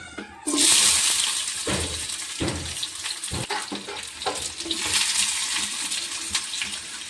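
Onions hit hot oil for chicken biryani with a sudden loud sizzle that keeps hissing and spattering, broken by occasional clanks of a utensil against the pan.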